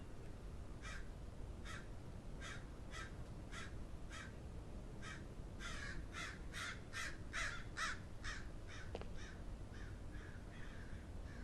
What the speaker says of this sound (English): I don't like the crows.